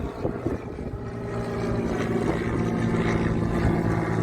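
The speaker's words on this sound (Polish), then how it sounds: "I mamy samolot." An airplane passing overhead near a campsite on the way to Fort William, a steady broadband engine drone that swells and holds loud, rumbling throughout with no talk.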